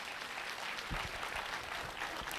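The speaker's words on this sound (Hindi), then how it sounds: "एक बार जोरदार तालियां मैम के लिए" A crowd at a home-care products event claps for a woman being honoured, a fairly faint, continuous patter of many hands with a few sharper individual claps and no speech.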